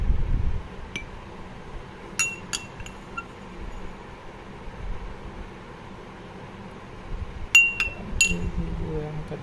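Spoon clinking against a glass while stirring a sabja seed drink, a few sharp chinks in two short bursts over soft room noise.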